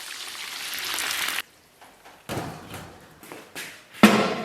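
Seasonings with fermented tofu stir-fried in a wok, heard as a loud sizzle that cuts off abruptly, then returns in short bursts of frying and tapping, with no talk.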